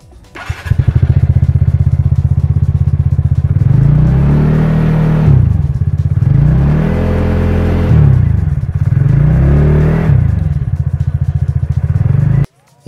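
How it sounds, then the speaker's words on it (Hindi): A 2023 TVS Ntorq BS6 scooter's engine and exhaust idle loudly up close, revved in three rising and falling bursts before cutting off at the end. "लेकिन उससे पहले इस गाड़ी का एग्जॉस्ट थोड़ा सुन लेते हैं।"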